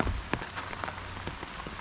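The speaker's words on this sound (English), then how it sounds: "But guys, look at that. We getting rain." Rain patters onto surfaces at an outdoor cooking spot in Jamaica, with close scattered drops tapping and clicking over a steady wash of falling water.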